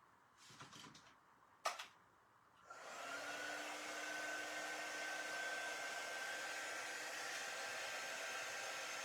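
A hair dryer blows steadily on craft paint, a loud continuous whirring hum with a faint whine that switches on after a few seconds and runs without a break, following a few soft handling clicks.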